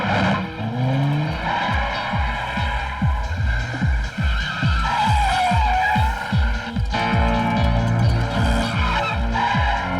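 A car driving fast in a comedy film chase scene, with repeated rhythmic tire screeches and skidding over a throbbing engine and music, loud and continuous throughout.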